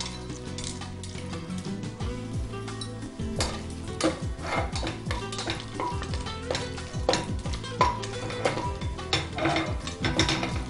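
Whole cinnamon, cloves and cardamom fry in hot ghee for a mutton biryani, giving a steady close sizzle. Frequent metal clinks and scrapes of a spoon stirring in the pot run throughout.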